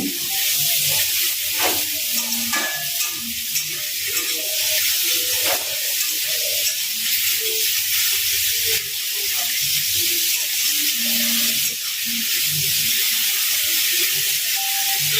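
Fish curry spices sizzle and fry in a pan with a steady, bright hiss while being stirred, broken by occasional scraping and stirring knocks, close and continuous throughout.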